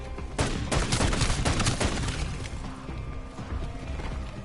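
Mechanical clicks and clatter of a gun magazine being swapped in Call of Duty Black Ops 6 zombies, mixed with busy gunfire-like bursts, loud and continuous throughout.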